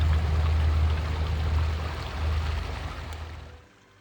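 Water flowing at the source of the Ashun river near a village: a continuous rushing, splashing stream with a low steady roar that fades out near the end.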